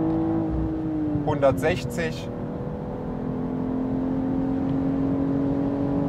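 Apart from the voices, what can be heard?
BMW M440i Gran Coupé accelerating on the Autobahn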